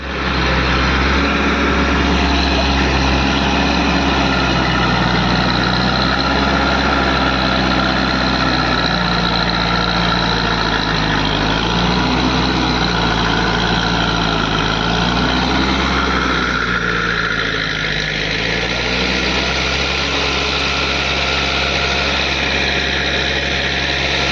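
A broken-down Tata truck trailer's engine idles steadily nearby, a loud continuous low rumble with a slight shift in tone toward the end.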